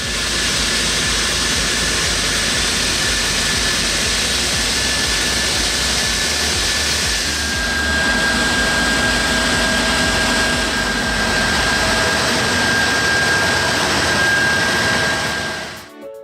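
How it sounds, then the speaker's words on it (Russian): A large wheeled debris blower clearing leaves gives a loud, steady roaring blast of air with a strong engine drone that holds for about sixteen seconds, then cuts off abruptly at the end. "По сути, оператор сидит в огромной колесной воздуходувке."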